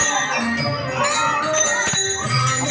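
A bell rings steadily through a school dindi procession at Dhangarwadi, Rahata, its bright metallic tones overlapping in a continuous, fairly loud wash with background crowd noise.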